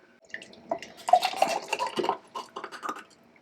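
Thick buttermilk ranch dressing made with garden herbs pours into a jar, a close, soft wet glugging with faint clinks of glass and utensils.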